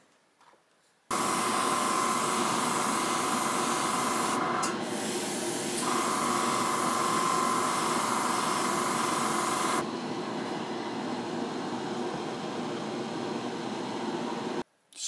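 An airbrush sprays black Alclad paint onto the jet nozzles of a SU-35S Flanker model, a loud continuous hiss running for most of the clip with a brief change in tone partway and a slight drop near the end.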